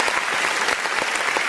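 Steady applause from an audience, a continuous dense patter of many hands clapping throughout, fairly loud and even with no talk over it.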